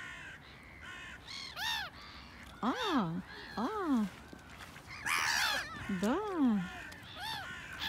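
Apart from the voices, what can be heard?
crows cawing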